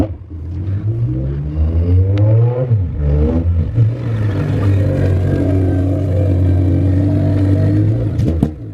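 A Honda Civic EK wagon converted to AWD revs on its first drive, the engine rising and falling through several gear pulls with whirring drivetrain noise, loud and close, ending with a brief clatter.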